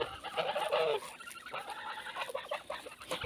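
Domestic geese honk and call in short, nasal bursts at close range, a few overlapping cries, with faint rustling in the background.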